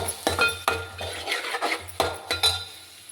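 Onions with chili powder and curry leaves are stirred in a pan, the spoon clinking and scraping against the metal in irregular strokes over a faint sizzle, close and fairly clear.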